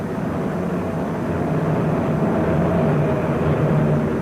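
A 1940s fighter plane drones at great height, a continuous, even, broadband roar holding steady and swelling slightly toward the end, with no voices.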